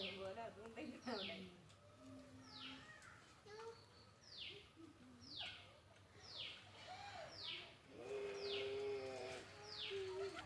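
Garden birds around a house give a steady run of repeated, swooping calls, roughly one per second, at moderate distance, while voices talk faintly beneath them.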